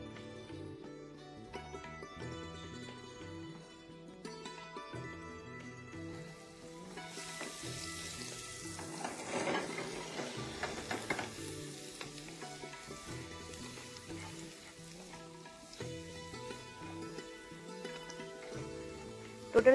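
About a teaspoon of finely chopped garlic goes into hot ghee for masala peas pulao, bursting into a brief loud sizzle midway that then settles into a soft fry, all under steady background music.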